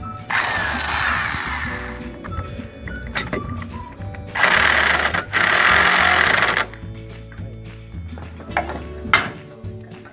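Mechanical tightening of a screw thread during pergola assembly, a harsh buzzing power-tool whir in several bursts separated by clanks and knocks, close and fairly loud, no voices.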